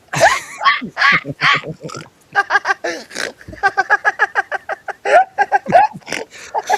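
A pig grunts and oinks in a quick, uneven series of loud, close snorts, with short pauses between bursts.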